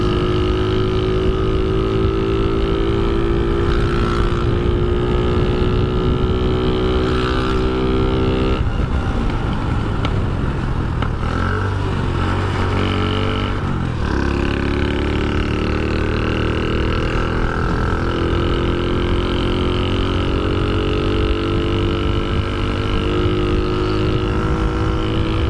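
A Shineray motorcycle accelerates hard and steadily for a long stretch, its loud, close engine rising through the revs in continuous sweeps, briefly easing off midway before pulling up again.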